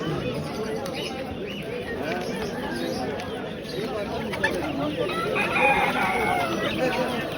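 Chickens and a rooster at a crowded Antakya bird and poultry market, the crowing and clucking blending into a steady din of chatter and voices with people talking nearby throughout.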